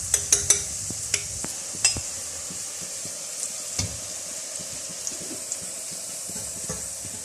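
Marinated chicken with green chili hits hot oil for chicken biryani, giving a sizzle that crackles at first and then settles lower. A spoon clinks and scrapes against the pot at close range, and no one talks.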